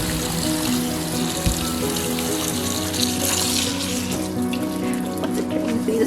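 Pasta water pours from a pot into a kitchen sink in a steady, loud rushing stream with a faint sizzle of hot water hitting the basin, continuous and close throughout.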